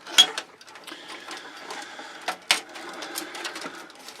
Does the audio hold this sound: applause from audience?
no